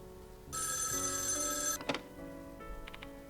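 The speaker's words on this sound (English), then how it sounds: "As I arrive at the mansion, the phone rings." A telephone bell rings once, loud and sustained, in the video game Death Mark 2, followed by a few softer, short electronic tones, with no voices over it.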